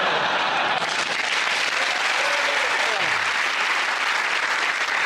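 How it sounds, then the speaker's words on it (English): Studio audience on a British panel comedy show bursts into sustained applause, a steady wash of clapping that fills the whole stretch at even loudness without letting up. "Randomly, I say well done and people clap."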